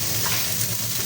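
Garlic and onion frying in a pan, giving a steady, loud sizzle close by, with stirring blended into the hiss.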